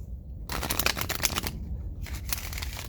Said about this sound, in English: Let's just get you one shuffle.